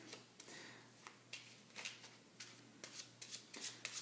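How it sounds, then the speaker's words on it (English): Playing cards are shuffled by a magic trick spectator in a run of soft, irregular riffling and snapping bursts, fairly quiet against a steady low hum. "So they mix the cards up"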